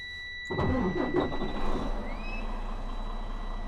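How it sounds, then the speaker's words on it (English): A Class 1 truck's engine cranks and catches after a quiet cab, a sharp start followed by a rough mid-pitched idle that settles into a steady rumble, with a warning tone ringing in the background. "So now we're going to start the truck,"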